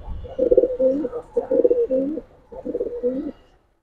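A pair of Dhaka Gorra pigeons coos close up in three loud, rhythmic bursts of rolling, throaty calls separated by short pauses, with no other sounds around them.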